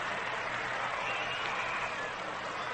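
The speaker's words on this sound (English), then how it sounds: "And the crowd is a bit noisy right now." Steady roar of a noisy baseball crowd filling Briggs Stadium in Detroit during an All-Star Game, a dense continuous wash of voices and murmur with no break over the whole stretch.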